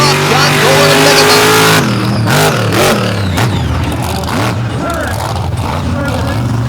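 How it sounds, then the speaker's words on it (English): Monster trucks race on a dirt track during qualifying, engines roaring loudly and revving through gear changes with sharp bursts and falling pitch, while an announcer talks over the racket. "as we get ready for monster truck qualifying to set the bracket"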